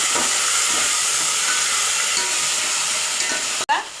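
Chopped tomato dropped onto well-roasted onion in a hot pan, giving a steady close hiss and sizzle throughout, ending in a sharp clatter.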